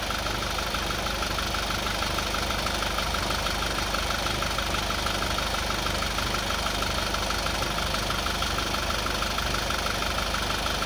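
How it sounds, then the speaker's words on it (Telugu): A Toyota Innova Crysta diesel engine idles steadily after a carbon-cleaning treatment, a close, even mechanical hum with a faint rhythmic knock and no one speaking. "ఎలా ఉంది వెహికల్ నాయిస్ చూడు, చాలా బాగుంది"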